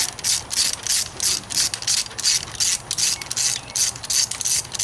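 A hand ratchet clicks in quick bursts as bolts are snugged down on a Pontiac G8 V6 engine during a spark plug change. The sound is close and rhythmic, with short pauses between strokes, and no voices.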